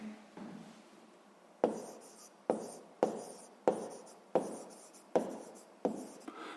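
Pen writing on paper during a sixth-grade maths exercise: a series of about seven distinct scratchy strokes, each starting sharply and fading, close and fairly quiet, with no talking.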